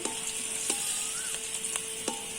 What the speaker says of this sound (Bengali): এটা একটু নেড়ে নিতে হবে। বাদামি মতো হয়ে যাবে,